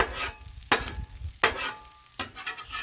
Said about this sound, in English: I'm scraping off the pancake yuck